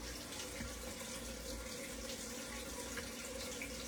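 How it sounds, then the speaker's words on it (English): Water running continuously through a Tower Garden hydroponic growing system indoors, a steady trickling splash that stays even and moderately close. "Give me a thumbs up if you can hear the water running."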